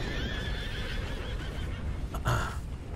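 Horses whinnying in the video game Red Dead Redemption 2, a drawn-out neigh running under steady ambient noise with a sharper, louder whinny near the end.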